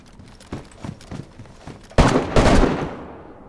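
Gunfire in DayZ: a string of distant rapid shots, then a loud close burst of heavy firing that rolls off into a fading echo.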